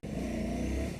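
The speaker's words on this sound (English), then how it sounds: "Oh, bit of wheel spin." A Ducati Scrambler Sixty2 motorcycle on a rough road in Kathmandu gives a brief, steady engine roar as the rear wheel spins, loud and close, with no talk.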